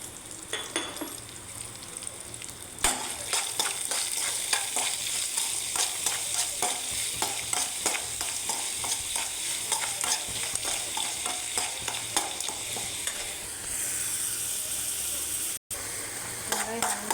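Onions with salt sauté in a pan, a steady close sizzle broken by frequent rhythmic scrapes and stirs of a spoon against metal.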